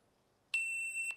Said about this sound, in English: Now it beeped, and I can start doing my course